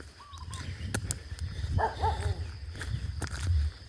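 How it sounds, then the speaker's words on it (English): Dog barking on a town sidewalk in Kep, a few short barks at moderate distance amid street ambience and footsteps, with no talk. "There's a dog."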